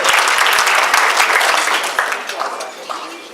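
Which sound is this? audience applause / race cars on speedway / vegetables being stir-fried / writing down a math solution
audience applause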